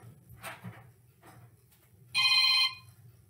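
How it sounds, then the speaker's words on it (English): A mobile phone rings briefly during a church morning worship service, a short burst of electronic ringtone after faint background speech and room noise. "Let me silence my phone."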